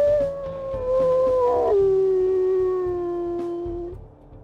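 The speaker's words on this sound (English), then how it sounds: "He's got a pretty deep howl there," A deep, sustained wolf howl from a video game character, loud and alone, holding a steady pitch and then dipping lower midway before fading out after about four seconds.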